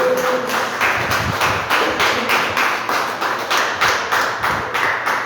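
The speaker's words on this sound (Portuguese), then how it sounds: "Palmas para Jesus, aleluia" A church congregation claps in a steady, rhythmic beat, loud and continuous, with a faint musical tone at the start.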